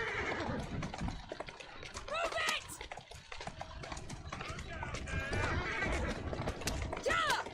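Horse-drawn carriages on a city street in Assassin's Creed Syndicate: steady clip-clop of hooves and wheel rattle with horses neighing and whinnying several times, busy and fairly close, with voices talking over it.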